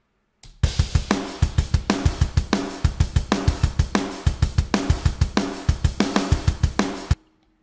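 Programmed rock drum part in 9/8 with kick, snare, fast closed hi-hats and crashes, played alone as a steady driving pattern of sharp, punchy hits for about seven seconds.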